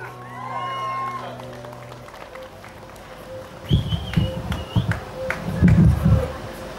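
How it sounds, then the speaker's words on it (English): Festival crowd at a Newcastle winter event applauds and cheers for performer Noel, a bursty, rising swell of claps and shouts following a few moments of quieter sound. "I believe Noel deserves a louder round of applause."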